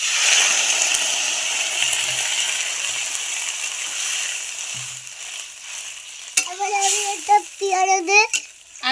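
Water is poured into a sizzling pan of curry, a steady close hiss and frying crackle, after which a person's voice comes in over the bubbling.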